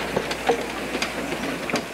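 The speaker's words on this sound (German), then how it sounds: "nur 4 Kilometer lange Schmalspurbahn wird an Wochenenden zwischen Neuzenk und Fertobus betrieben" Narrow-gauge railway train running on a short line in Burgenland, with soft rhythmic clicks and rumble at a moderate distance, steady and without voices.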